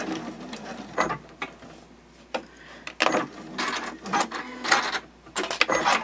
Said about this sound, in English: I'll go over that previous line of stitching where I began, and then I'll just backstitch